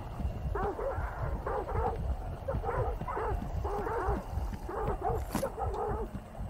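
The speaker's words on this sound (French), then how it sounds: "Hop, il y a des chiens." Dogs bark and yip in the game Hunt: Showdown, a run of repeated mid-range barks at moderate distance over a steady rumbling ambience, with brief whimpering tones between them.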